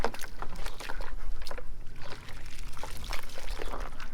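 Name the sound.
water rinsing soap off an Alfa Romeo 4C car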